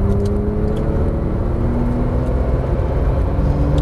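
A Porsche 911 Turbo S on a racetrack produces a loud, constant engine roar from inside the car, its rising tonal whine holding steadily throughout as it accelerates out of a corner.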